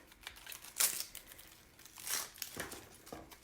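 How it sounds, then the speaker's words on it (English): Kitchen knife slices through an onion on a board, the end cut off and the bulb halved, giving a few close, crisp crunching cuts with papery crinkling of the skin, no talking. "Cut the one end off and then cut it in half."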